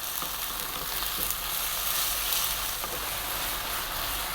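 Sauce bubbles and sizzles in a pan over lively heat for a vegan mushroom nut loaf, with a continuous frying hiss and occasional soft scrapes from stirring.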